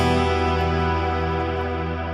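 A sustained synth tone from the Lunar Lander iOS app, drenched in heavy reverb with a short delay, rings as a dense, washy drone that holds steady and slowly fades, with no voices.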